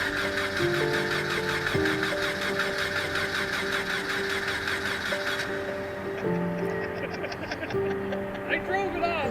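An Audi Sport Quattro's engine starts and settles into a rumbling idle, with the pitch rising and falling through several rev changes while people talk nearby.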